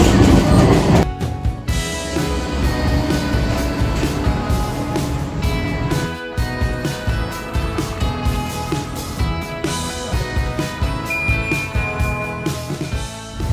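A Porto metro tram runs along its rails, a loud, continuous rumble with rhythmic clacking of wheels and metallic ringing tones over roughly fourteen seconds.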